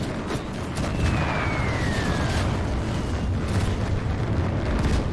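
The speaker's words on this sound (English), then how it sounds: "Oh, wow. There goes the Panzer IV." Heavy battlefield explosion and rumbling combat noise as a Panzer IV tank is destroyed in the WWII game Gates of Hell, a loud, dense continuous roar with a thin descending whistle overhead and scattered distant blasts.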